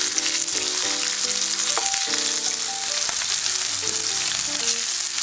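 Fish fillets pan-frying in oil, giving a loud, dense, continuous sizzle close up, with faint tonal hum and a couple of brief clicks beneath it.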